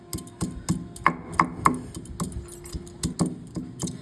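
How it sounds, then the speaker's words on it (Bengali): Chopped ginger and two green chillies being crushed on a board for a vegetarian pumpkin dish: a steady run of sharp, close pounding knocks, a little irregular in rhythm, with no talking. "এখানে 1 ইঞ্চি আদা কুচি করে রেখেছি আর 2টো কাঁচা লঙ্কা নিয়েছি। এগুলোকে আমি এখন থেতো করে নেব।"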